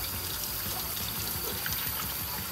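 Hot water pouring steadily over a car EGR valve during cleaning, a continuous close splashing trickle with no talking.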